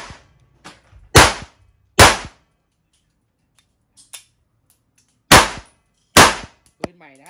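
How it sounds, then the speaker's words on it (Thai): A BLOW Mini9 blank gun fires indoors, giving four loud, sharp, close shots at irregular spacing with quiet gaps and faint handling clicks between them. "มาทดสอบปืนแม็กกันนะครับน้องๆในร้านอุดหูกันด้วยนะฮะ5นัดบรรจุพร้อมนะ"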